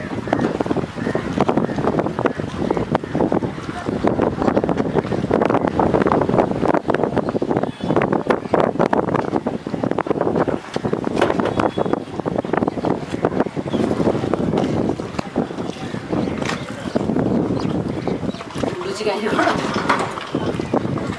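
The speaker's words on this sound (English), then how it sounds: "We slowly got into the boat and the boat started moving." A boat moving across Chilka Lake from Balugaon to Kalijai Island with a steady engine drone and wind buffeting the microphone, mixed with splashing and occasional voices throughout.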